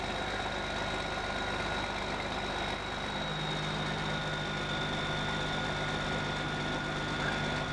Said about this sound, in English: extend that wheel lift out.